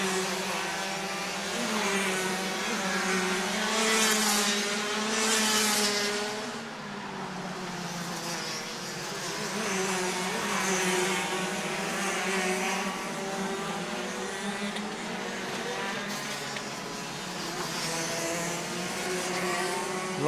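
DD2 racing karts lap the track at the 2023 SARMC Kart Championship at iDube, a steady, loud, buzzing two-stroke engine drone that rises and falls slightly as the karts pass, with no break throughout.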